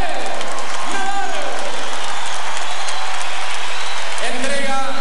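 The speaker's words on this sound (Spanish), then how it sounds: "La merecida ovación para Nadal, para el número uno del mundo" A stadium crowd gives a loud, sustained ovation for Rafael Nadal at Nalbandian's farewell tennis exhibition in Córdoba, a broad wash of applause and cheering with whistles rising over it.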